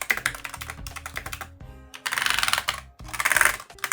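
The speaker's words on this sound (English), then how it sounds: "I really like the mechanical keyboard." Rapid clattering keystrokes on the mechanical keyboard of a 2017 SLI gaming laptop, close and fairly loud, in bursts with brief pauses, over steady tonal background music.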